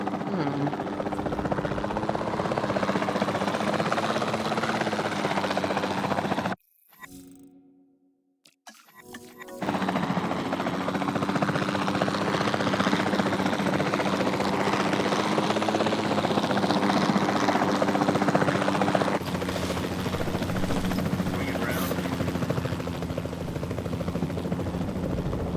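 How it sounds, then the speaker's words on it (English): A capture team helicopter in the Jurassic World Evolution 2 video game drones steadily with a loud, continuous rotor and engine hum, cutting out briefly to near silence before resuming at full level. "Then the sensible thing is to take a capture team helicopter."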